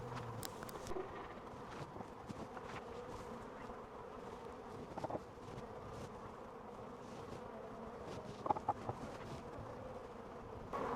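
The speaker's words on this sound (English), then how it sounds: "the hive to the right of me going crazy. You could just hear them buzzing away" Honey bees in a backyard hive give off a steady, dense buzz that fills the whole stretch, with no talking and only faint scattered ticks and rustles on top.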